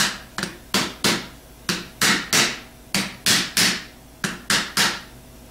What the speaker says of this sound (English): We want to start lightly tapping only on the aluminum plate so that the brush gets started.